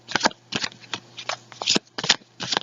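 Tarot cards being shuffled close up for a reading, quick riffling bursts repeating in an uneven rhythm with short pauses between them.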